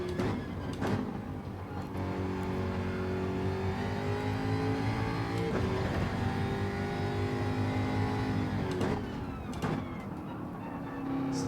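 A race car accelerating out of a corner in Gran Turismo 7, engine revving and climbing through the gears with brief shift dips, loud and steady throughout, no voices.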